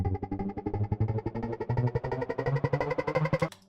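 A drum and bass build-up with risers, shuffling drums, kick and bass, the rapid hits tightening and rising in density over a few seconds before cutting off abruptly.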